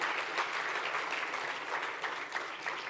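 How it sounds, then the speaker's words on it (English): An audience at a blockchain conference keynote claps together, a sustained, even patter of many hands that fills the whole stretch with no speech over it. "I think we can clap our hands"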